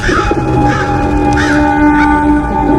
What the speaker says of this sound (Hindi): बहुत से कबूतर और बर्ड्स आ गए और उसी सेल के बाहर इधर उधर घूमकर शोर मचाने लगे